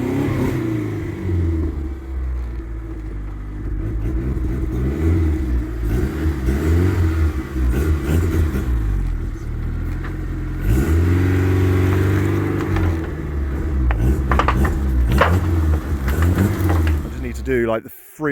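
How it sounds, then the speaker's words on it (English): A car engine hums and revs steadily while reversing, its pitch rising and falling in repeated waves, loud and close throughout, then cutting off abruptly at the end. "I'll insert a little clip of me reversing on here"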